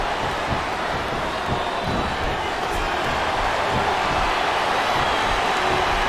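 Capacity arena crowd at a WWE SmackDown vs. Raw 2007 Royal Rumble match, a steady loud roar of cheering and murmur with no distinct breaks, filling the whole span.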